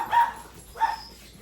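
Dogs let outdoors from a home kitchen give two short, fairly faint barks or yips about half a second apart, with quiet room tone between.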